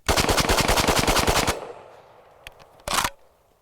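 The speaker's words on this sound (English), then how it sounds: "So this is just a rapid fire." A Kel-Tec RDB rifle shooting steel-case Tula ammunition in rapid fire: a loud, fast string of shots for about a second and a half, then quieter clinks and a final single shot with its echo.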